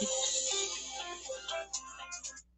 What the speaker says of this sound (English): Hold on, my phone's ringing again.